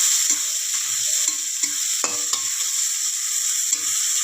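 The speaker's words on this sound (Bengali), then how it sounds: "পেঁয়াজগুলোকে কিছু কিছু করে কেটে এগুলো ভেজে নেবো একটু ভেজে নিই" Chopped onions fry in hot oil with a bay leaf for a whole monkfish curry, giving a constant bright sizzle punctuated by a few soft stirring scrapes and taps, close and without talk.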